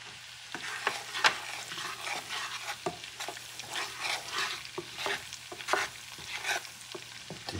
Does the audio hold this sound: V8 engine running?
no